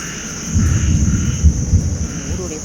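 Thunder rolls during a heavy rainstorm in rural Thailand, a low rumble with a few heavier booms mid-way over steady background noise.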